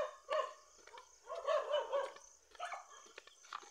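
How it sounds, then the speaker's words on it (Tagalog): Several dogs bark outdoors in a rural Philippine setting, a run of sharp, fairly near yaps and barks in irregular bursts with brief pauses between them. "Ayan may mga aso na."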